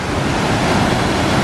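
Waterfall fed by a river in Seattle, heard as a loud, steady broadband roar of falling water that fills the whole moment without pause.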